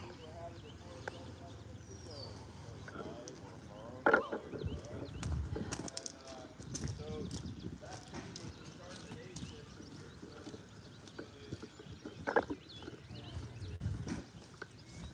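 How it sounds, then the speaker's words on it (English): Horse hooves clop faintly during a beginner horse ride, scattered soft thuds in a quiet outdoor setting while people talk over them. "This is a horse ride for beginners."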